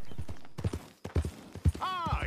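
Horse hooves clip-clopping in the video game Red Dead Redemption 2, a rhythmic run of hoofbeats heard under people talking and laughing, with a whistling, swooping effect near the end.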